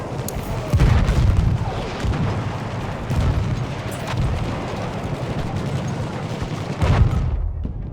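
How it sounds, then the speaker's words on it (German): A grenade goes off in a Battlefield 1 battle in the Argonne Forest, a heavy boom that rumbles on through dense, continuous combat noise with further thumps near the start and end. "Eine Granate."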